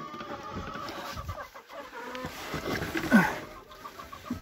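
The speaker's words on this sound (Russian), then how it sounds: "Куры, конечно же, ходят." Hens moving about a chicken coop in January while eggs are gathered, with soft scattered clucks and a brief louder squawk near the end, amid shuffling and rustling close by.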